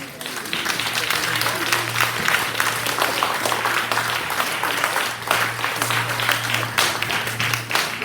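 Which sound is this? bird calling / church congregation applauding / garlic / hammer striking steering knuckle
church congregation applauding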